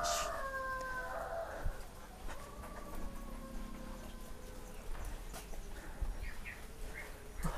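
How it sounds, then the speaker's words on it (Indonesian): A chicken clucks a few times in the first second in a rural village, with faint bird calls scattered over steady outdoor background noise. "Ini ada ayam"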